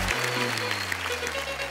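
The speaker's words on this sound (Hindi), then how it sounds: "तो जोरदार तालियां हो जाए" Studio audience applause on a Hindi TV comedy show, a steady wash of clapping running under sustained music tones for under two seconds.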